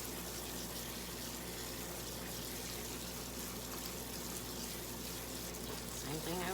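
Tap water runs steadily while rinsing, a continuous close hiss and splash holding at an even level throughout, with no talk.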